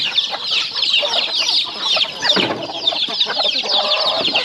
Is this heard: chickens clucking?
yes